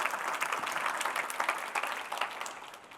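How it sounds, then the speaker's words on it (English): Warm audience applause at a business event, steady dense clapping that gradually fades, with no talking over it. "I think he deserves another warm round of applause."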